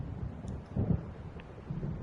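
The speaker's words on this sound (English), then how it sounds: "It seems there's a storm coming." Thunder of an approaching storm in the video game Alan Wake, a low, broad rumble rolling on for about two seconds with a heavier swell near the middle, heard alone without talk.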